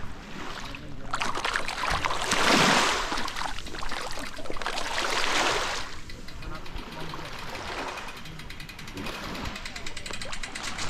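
Small boats moving on the water at Antalya on the Mediterranean coast, a steady broad wash of water and hull noise that swells and fades.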